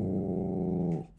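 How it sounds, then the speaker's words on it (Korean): A wary pet dog growling indoors in a family living room, a low sustained rumbling growl held close and steady for about a second before trailing off, with no talking. "그리고 시작된 으르렁"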